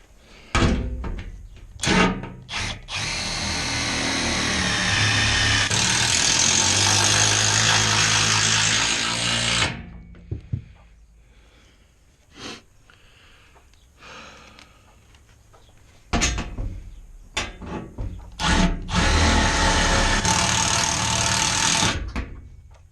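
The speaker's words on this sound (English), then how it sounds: "put a couple screws across the bottom there." Cordless drill drives screws into the bottom of a chicken coop in two long whirring bursts separated by a quiet pause, close and loud, with scattered knocks and clatter of handling around them.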